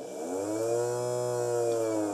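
Small electric motor driven by a Deltang radio-control receiver, a steady high whine with a rising and falling pitch, fairly close and continuous with no talk.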